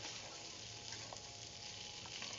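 Octopus mouth sautéing in a pan gives a steady, quiet sizzle and fry with faint stirring clicks, and no voices.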